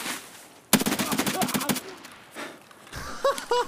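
A rapid burst of gunfire in Escape from Tarkov, several sharp shots in quick succession, then quieter game sounds and faint voices.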